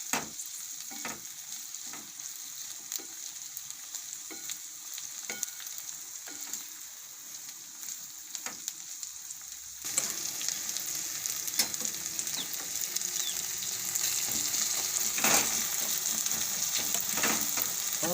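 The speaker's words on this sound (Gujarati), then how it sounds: "લસણને આપણે ઘડીક વાર તેલમાં સડવા દેવાનું છે સરસથી." Garlic frying in oil for Maharashtrian thecha chutney makes a continuous hissing sizzle with occasional soft scraping clicks, and it grows noticeably louder and denser partway through.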